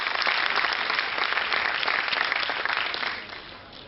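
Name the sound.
loud audience applause at a lecture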